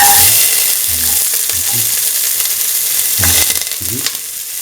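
Onion dropped into hot oil for a potato coconut milk rice dish, sizzling steadily with a broad frying hiss and a few soft stirring scrapes, close and fairly loud.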